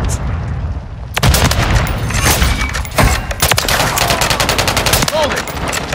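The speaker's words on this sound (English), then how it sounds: "grenade out!" A grenade blast in Call of Duty: Modern Warfare 3 lands among heavy, continuous gunfire, with several loud booming bursts and rapid automatic shots filling the whole stretch.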